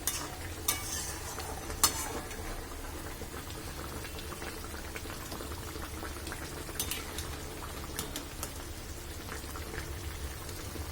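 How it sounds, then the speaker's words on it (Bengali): Hilsa fish and eggplant curry simmers in an open pan, giving a faint, even bubbling hiss with scattered light pops and a couple of sharper clinks. "খোলা রেখে ঝোলটাকে আর একটু ফুটিয়ে নিতে হবে।"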